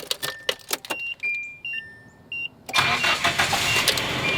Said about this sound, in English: you then start the truck.